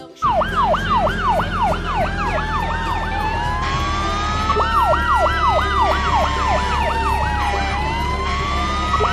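A fire engine siren wails loudly and continuously, cycling through rapid rising-and-falling sweeps with a second siren tone layered beneath.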